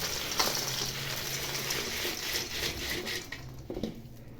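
Crispy fried kara boondi, a Tamil Diwali snack, rattles and crackles as it is stirred or shaken. Quiet, dry clicks and rustles come close by in irregular bursts, with no talk.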